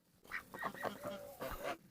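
Chickens on a farm, gathered among a flock at feeding time, make loud, close, overlapping squawking and clucking calls that run almost continuously through the clip, with no talking.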